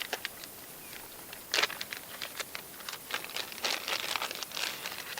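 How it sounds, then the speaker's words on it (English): Quiet crinkling and rustling of thin plastic bags, irregular crackles coming in clusters, close by with no talking. "Now I've got these"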